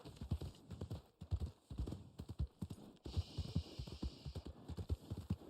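Horse hooves clip-clop steadily in Red Dead Online, a brisk regular trotting rhythm of dull thuds close by, with a low hum beneath and no talking.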